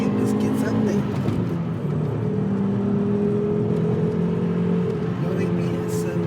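A Volvo S60R engine revs as the car accelerates onto a freeway, a steady in-cabin drone that climbs in pitch and dips briefly around a gear change, with someone talking over it.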